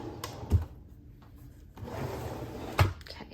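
A drawer in a craft room storage unit opens or closes with two distinct knocks, one near the start and one near the end, over a quiet background with a faint sliding rustle in between.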